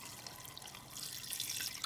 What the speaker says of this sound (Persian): و حالا آب سر این قابلمه میذاریم